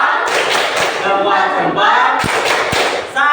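A classroom group does the 'tepuk salut' salute clap, with a few sharp thumping claps and slaps under brief spoken words and chatter.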